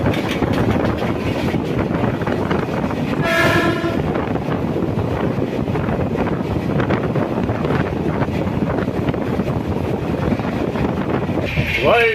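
The Udyan Express passenger train from Mumbai CSMT to Bengaluru rumbles along steadily with wind buffeting the microphone; a brief horn sounds partway through, and a short squeal comes near the end.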